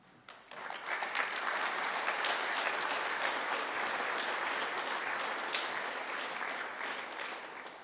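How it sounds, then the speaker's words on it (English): Sustained audience applause for honored students at a senior honors night, rising quickly after a soft start and holding as a dense, steady wash of many hands clapping in a large room, easing slightly toward the end. "Can we please give them another round of applause?"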